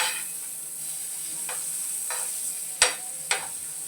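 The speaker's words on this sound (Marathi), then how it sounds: "तर इथे मी तवा घेतलेला आहे, त्यावरती आपल्याला आहे ना भरपूर साराचा बटर लावायचा आहे।" Butter sizzles on a hot tawa while bread pizza is being made: a steady, close hiss with a couple of sharp crackles or clicks near the end, and no talking.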